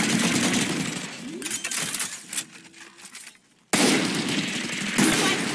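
A Spectre submachine gun from the shooter game Valorant fires at a wooden object in dense, loud rapid bursts. The firing thins out, stops briefly in near silence, then resumes at full intensity.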